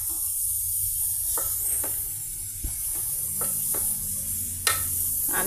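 Brinjal, potato and tomato curry with boiled green gram and coriander leaves is stirred in a pan over a low flame, giving a soft steady sizzle with several faint scraping strokes of the spoon scattered through it.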